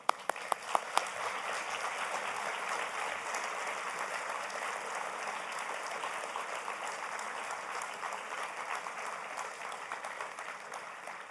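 Graduates at a business school undergraduate ceremony give their families and friends a big ovation, dense sustained clapping from a large crowd that begins with a few individual claps and fills the hall for over ten seconds.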